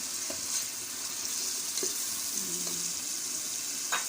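Ginger-garlic paste fries in oil with browned ground onion paste, giving a steady close sizzle with occasional soft scrapes and stirring clinks.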